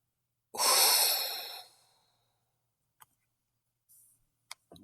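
One long, close exhale during a relaxation exercise, a breathy rush that swells and slowly fades over about a second and a half, followed by quiet with a few small clicks and faint breaths.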